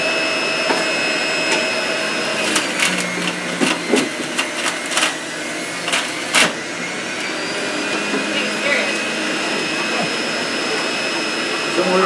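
A juicer grinds Swiss chard, its motor giving a loud, steady whine with scattered clattering bursts as the leaves are fed in and thrown against the screen.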